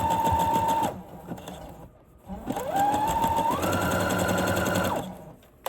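Sewing machine stitching a zigzag tack-down on underwear fabric, a close rapid mechanical whir in two bursts separated by a short pause, the second burst rising in speed before stopping.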